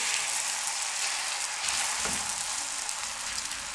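Steady hissing sizzle of a radish paratha cooking on a ghee-greased tawa, close and continuous with a slight soft disturbance midway, no voices.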